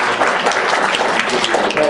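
Audience at a water quality panel discussion applauding the panelists, a dense continuous burst of clapping heard up close with no break.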